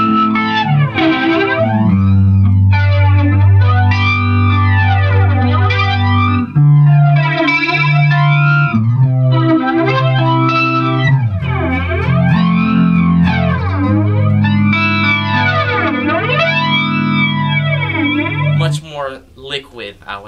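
An electric guitar riff plays through an MXR Flanger pedal set to high regeneration and a faster speed, giving loud, continuous jet-like sweeps that rise and fall repeatedly over the sustained notes until the riff stops near the end.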